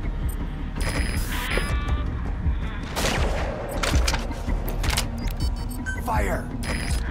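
Soldiers fire guns in Metal Gear Solid V, scattered sharp gunshot cracks and bursts at mid distance, mixed with game ambience and voices talking.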